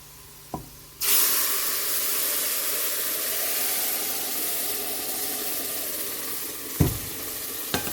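Tamarind water poured into a hot pan of spiced eggplant and onions sets off a sudden loud, steady sizzle that hisses on continuously, with a couple of sharp knocks from a utensil against the pan.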